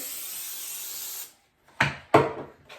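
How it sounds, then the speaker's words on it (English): Pam cooking spray hisses onto a cookie sheet in one steady burst of about a second, followed by a few sharp knocks as the pan is handled. "we are going to spray a little bit of Pam on here just for good extra measure."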